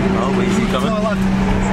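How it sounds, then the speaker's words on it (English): A BMW M5 at a car meet speeds past close by, its engine note holding a steady loud drone with a brief rising whine, while people talk excitedly over it. "That's M5. Oh my god! Dude, that was so quick!"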